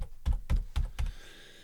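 Keys tap on a computer keyboard while typing into Notepad: four crisp, evenly spaced clicks, close and fairly loud, followed by a faint fading tail, with no talking.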